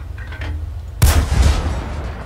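A single heavy tank cannon shot from World of Tanks, a sudden loud boom over low engine rumble that rolls off into a decaying roar.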